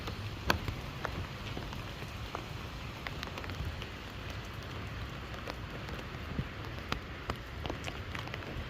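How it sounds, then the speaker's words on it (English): Light drizzle during Hurricane Helene, a faint, steady patter of scattered drops with a few sharper taps standing out against a soft wash of background noise. "Just a little bit of a drizzle"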